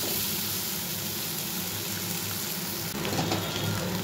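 Hot water poured into a pan of curry whose spiced base has cooked down, a steady rushing hiss over sizzling, louder pouring near the end.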